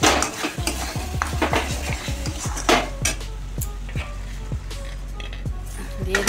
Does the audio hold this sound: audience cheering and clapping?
no